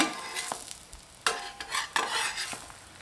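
Tapioca adai dosa fries in extra oil on a pan, soft sizzling punctuated by several sharp scraping and stirring scrapes of a utensil against the pan, close and without talk.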